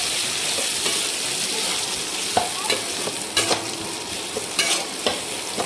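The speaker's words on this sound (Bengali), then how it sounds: "একটু লঙ্কা কুচি দিয়ে ভালো করে নেড়ে চেড়ে সেটাকে আস্তে আস্তে কষাতে হবে" Onion and tomato with chopped chilli fry in a pan, a steady soft sizzle running throughout, broken by a few sharp scraping clinks as a spatula stirs.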